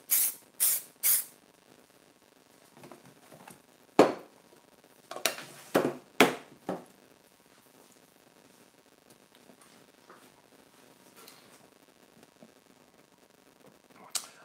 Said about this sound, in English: Again, a little bit of spray fix.